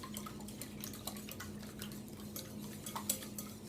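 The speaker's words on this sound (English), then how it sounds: "So once you get your eggs in your bowl, go ahead and whisk that up before you add anything" Eggs are whisked in a bowl, giving faint rapid ticking and clicking of the whisk against the bowl at a steady rhythm, quiet and close with no talk.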